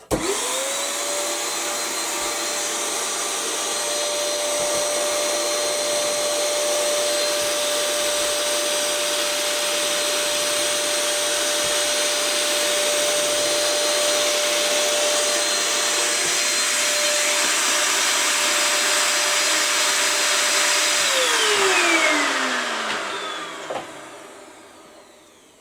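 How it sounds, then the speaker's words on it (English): A powerful 600-watt vacuum cleaner sucks cork dust off a model railway baseboard, a steady loud whine and roar running close for over twenty seconds before it switches off and winds down with a falling tone. "I'm going to suck the muck out of there, because you get a lot of cork dust as you cut it"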